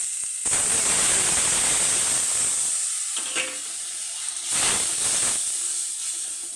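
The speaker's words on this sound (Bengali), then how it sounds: "মশলাটা এবার ভালোভাবে কষিয়ে নেব" Masala frying in a pan while making a vegetarian bottle gourd kofta curry gives off a loud, steady hissing sizzle, close and continuous, with a few brief surges and no talking.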